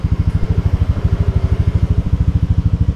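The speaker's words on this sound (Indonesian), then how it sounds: "Kita juga pasang sound untuk mendengarkan seberapa besar, seberapa kencengnya volume dari knalpotnya." A Yamaha NMAX Turbo scooter fitted with a Prospeed racing muffler runs with a deep, close, steady rapid exhaust pulse, a loud throbbing beat with no voices.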